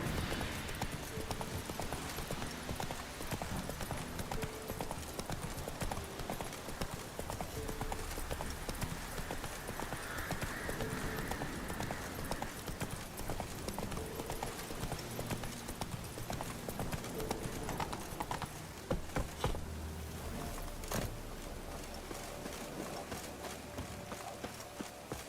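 Horse hooves clip-clop steadily in The Witcher 3, a continuous running gait under game ambience and music, with a brief louder burst near the end.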